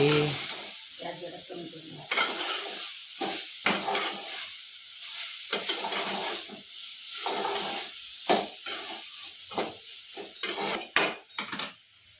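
Jackfruit vegetable bhaji stir-frying in a pan, a close hiss and sizzle with utensil scrapes and stirring, under intermittent talk.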